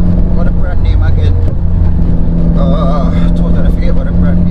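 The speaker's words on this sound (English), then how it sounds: "Why the car sound good though, bro? Yeah, upgraded exhaust? Yeah, so 3-inch straight through." A Mitsubishi Evo engine running through an upgraded 3-inch straight-through exhaust, a steady loud drone with revving undertones while people talk over it nearby.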